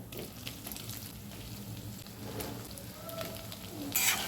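Fenugreek mutke sizzle and crackle steadily in a kadhai of oil tempered with mustard seeds, cumin and sesame over medium gas, with a brighter burst of spitting near the end.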